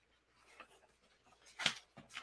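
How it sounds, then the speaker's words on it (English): Book pages shuffle and flip in soft papery rustles, quiet and close, ending in a couple of sharper crisp flicks. "I shuffle my book around here."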